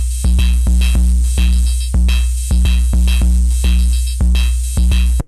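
Endorphins Black Noir synth module plays a loud, punchy electronic sequence of deep bass hits with bright overtones, repeating in a steady pulsing rhythm with short gaps. No voices, and it cuts off abruptly at the end.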